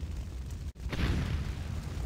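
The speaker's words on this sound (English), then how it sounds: "Explosions still happening because of the gasoline and the petrol and the oil and everything" Explosions at a burning gas station in the Resident Evil 3 video game: a low, rumbling boom wells up after a brief dropout and rolls on over a dense, noisy background.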